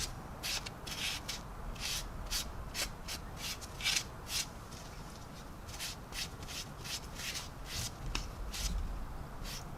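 A fingertip rubs weathering wash into the panel lines of a clear-coated 1/72 Special Hobby JA-37 Viggen scale model, making close, quiet, rhythmic scratchy strokes in quick repeated bursts with no talking.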